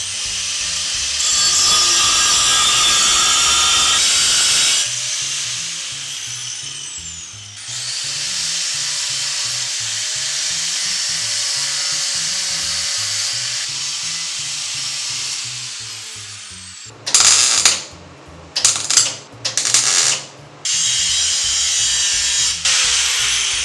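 Power grinder cutting down a custom car radiator part, a loud, close, continuous high whine that runs for long stretches, dips briefly, then breaks into several short on-off bursts near the end.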